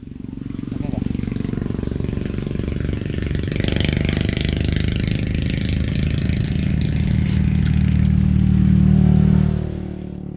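A motorcycle engine idles and revs nearby with a steady throbbing rumble that swells louder before dropping off, while people talk over it.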